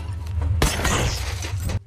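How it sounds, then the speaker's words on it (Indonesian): A thrown drink bottle smashes into a truck headlight, a sudden loud crash of shattering glass that rings out for about a second before cutting off. "sebuah botol minuman pun melayang, dan mendarat dengan mulus pada lampu truk hingga hancur"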